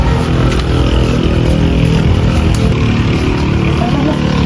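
A motorcycle engine revs loudly and continuously near a village of the Mante people in Kalimantan, a dense close roar that holds steady across the clip.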